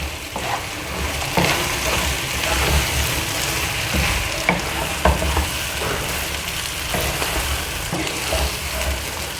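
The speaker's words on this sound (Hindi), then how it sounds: "अब मैं इसको अच्छे से मिक्स कर लेती हूँ।" Boiled chickpeas stirred and fried with spices in a pan, giving a loud, steady sizzle with repeated scraping strokes of the spoon throughout.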